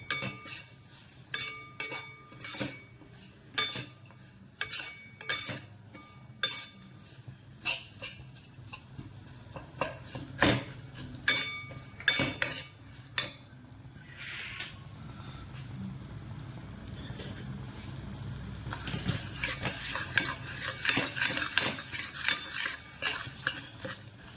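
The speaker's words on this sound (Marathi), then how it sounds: "म्हणून याला सारखं हलवत राहायचं, अजिबात करपू द्यायचं नाहीये" Jaggery melts in ghee in a pan on low heat while a spoon stirs it constantly, giving a steady run of metallic clinks and scrapes against the pan. Near the end the stirring grows quicker and busier.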